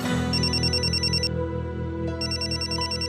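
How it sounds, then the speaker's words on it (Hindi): A telephone ringtone plays loudly and steadily for about three seconds, a bright repeating electronic trill with a short gap partway through, and no one speaks over it. "देखिए एक फोन आ रहा है, बहुत जरूरी है।"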